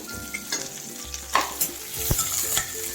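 Large-cut onions fry in a pan with a close, bright sizzle, while several quick spatula scrapes and taps break through the steady hiss over a few seconds, with no voices.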